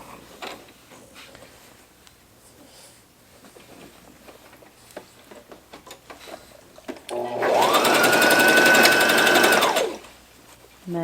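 A sewing machine stitches a long seam on a fabric face mask, a steady mechanical whir lasting about two and a half seconds after quieter handling clicks and rustles.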